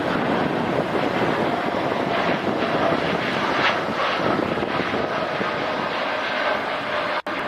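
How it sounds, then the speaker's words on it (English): A United Boeing 787-10 Dreamliner departs with a steady, loud broadband engine roar and some wind rumble that holds throughout, and there is a brief dropout near the end. "we've got United's Dreamliner leaving here."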